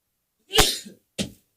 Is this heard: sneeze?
yes